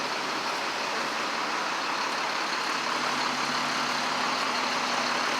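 Snow plow trucks idling in Boston traffic ahead of a snowstorm, a dense, steady engine rumble and broadband road noise that holds constant throughout with no talking.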